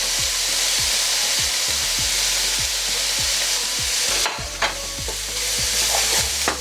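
Samosa filling cooks down in a pan with chicken broth, a loud steady sizzle with regular rhythmic scraping strokes of a stirring utensil, easing slightly near the end.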